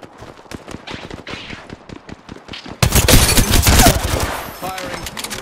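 Gunfire in the video game Apex Legends: a fast, regular string of close, sharp shots, then a much louder, denser burst of automatic fire midway that gradually trails off.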